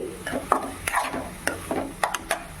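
Raw papaya halwa with cardamom powder being stirred in a pan, a series of close, irregular scraping strokes over a faint sizzle, with no talking.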